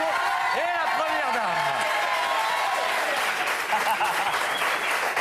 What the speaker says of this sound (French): qu'on va applaudir très très fort